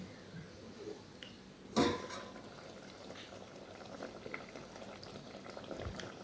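A traditional Malawian roasted fish stew simmers in a pot on medium heat, giving a steady soft bubbling and gentle popping close by, with one brief louder splash or clatter early on.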